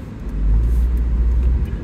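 Road traffic passing at an intersection on Moonaki Avenue in Little Ferry, New Jersey, heard from inside a car waiting to turn right, a low rumbling swell of a passing vehicle, steady and fairly loud, no talk.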